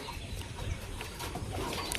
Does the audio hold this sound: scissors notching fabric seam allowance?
no